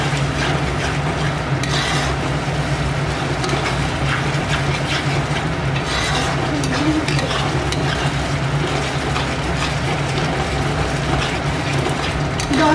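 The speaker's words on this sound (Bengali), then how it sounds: "পেঁয়াজের পরে আদা রসুন আর লঙ্কা বাটা দিয়ে এটাকে একটু ভালো করে ভেজে নিতে হবে" Ginger, garlic and chili paste frying in a pan after onions, with a dense, continuous sizzle and constant close scraping of a spoon stirring through it.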